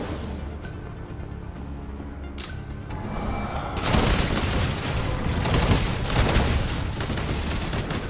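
Rapid, dense weapon fire from spamming the Hemorrhage with Insanity rounds in the game Shape of Dreams. Layered shots and booms start sparse, then swell into a loud, continuous barrage from about midway to the end.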